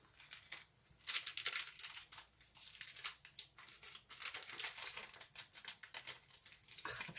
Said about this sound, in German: Jetzt muss vorsichtig das Papier abschneiden.